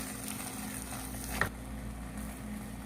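Carrot halwa, with eggs added, is stir-fried in a pan, giving a low, steady sizzle with a single sharp clink of a utensil partway through.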